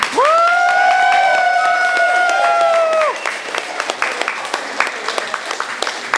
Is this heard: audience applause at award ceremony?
yes